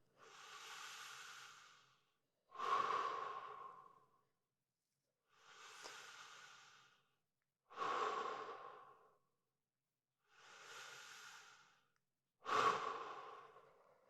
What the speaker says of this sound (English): we'll breathe 6 times, 3 through the mouth and 3 through the nose